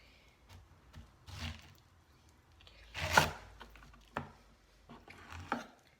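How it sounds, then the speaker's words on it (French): A knife cuts fruit into quarters on a kitchen work surface for a seasonal fruit salad, giving several close, separate chopping thuds, one louder cut near the middle, with no talking. "Je vais le couper en 4."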